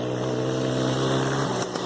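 A motorcycle passing nearby, a steady droning engine hum that holds its pitch and then dips as it moves by, alone without talk.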